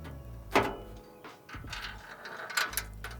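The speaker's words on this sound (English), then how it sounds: "AJ uses the longer bolts that come with the hardware pack to mount the tray to the legs" Pellet grill assembly with longer hardware-pack bolts being tightened to mount the tray to the legs, heard as close, soft ratcheting and metallic scraping and clinking in an uneven rhythm, with no talking.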